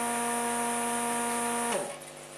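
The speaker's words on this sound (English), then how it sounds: "now I'm going to turn off the vacuum pump" A steady electric vacuum pump drones with a strong hum, then switches off near the end, its tone sliding down as it winds to a stop.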